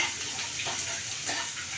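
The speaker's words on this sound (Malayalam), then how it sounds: "കുറച്ച് വെള്ളം ഒഴിക്കേണ്ട വരും" Water is poured into a pan of quick gram-flour curry, giving a steady, close gushing splash that holds at an even level throughout.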